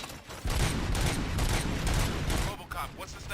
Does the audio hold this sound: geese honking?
no